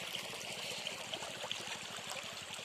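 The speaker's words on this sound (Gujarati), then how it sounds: "જો કેવી સરસ નદી હાલી જાય છે" Shallow river water flows and trickles steadily over stones nearby, a continuous bubbling rush with no voices.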